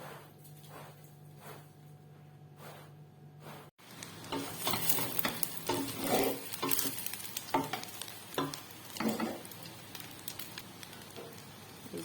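Fried biryani reheating in a pan, a quiet room tone giving way to a steady crackling sizzle with intermittent scraping stirs of a spatula, moderately close.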